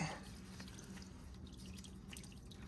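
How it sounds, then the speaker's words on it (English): Motor oil trickles and drips from the filter housing of a 2016 Lexus RX350 with a 2GR-FKS engine, a faint, steady patter of drops close by. "that will drain some more oil, I believe"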